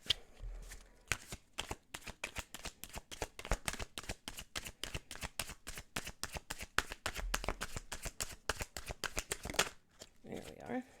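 Tarot cards being riffled and shuffled in a rapid series of crisp snaps, close and loud, ending with a brief pause and a soft rustle as a card is drawn.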